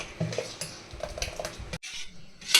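A spoon scrapes and clinks against a pot of sago porridge set in water to cool, several irregular metallic stirring strokes up close, with a short gap before a final clatter.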